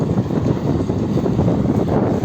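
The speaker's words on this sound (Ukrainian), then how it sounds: "Трошки вітер, такі якісь дні вітряні." Steady wind rushing and buffeting against the microphone in a buckwheat field during harvest with a Claas Mercator 70 combine, a continuous low roar with no other distinct sounds.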